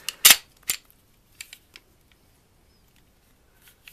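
Sharp mechanical clacks of a Glock 23 pistol being safety checked: a loud slide rack, a second clack, then a few lighter clicks, close up and alone with no talking.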